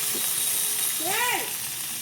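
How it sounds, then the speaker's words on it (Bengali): Grated coconut stirred into ghugni spice mix frying in a pan, a soft sizzle with a brief scraping stir, and a short voice sound partway through. "এবার দিয়ে দিব নারকেল কুচি, দিয়ে দিলাম, একটু নেড়ে নিব।"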